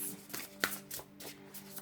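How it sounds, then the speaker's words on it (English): Tarot cards shuffled by hand, a quick run of soft riffling flutters and slaps close up over a faint steady hum. "One more shuffle."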